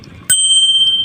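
One crisp bicycle-style bell ring hits loud and close after a brief quiet lead-in, its pure metallic tone ringing on steadily and slowly fading, with no talking.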